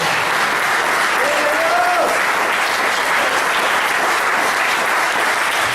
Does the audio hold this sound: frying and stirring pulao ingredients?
no